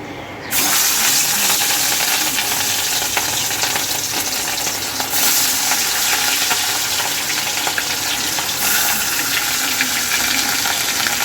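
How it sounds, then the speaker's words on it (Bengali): Loud, steady sizzling of fish frying in a hot pan, a dense crackling hiss that runs continuously after a brief quiet start. "চলো মাছগুলোকে ভাজা যাক"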